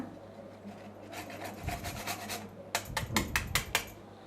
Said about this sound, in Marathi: त्यानंतर जायफल किसून घेऊया